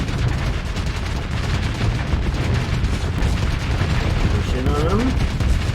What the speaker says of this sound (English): Big firefight to start the battle off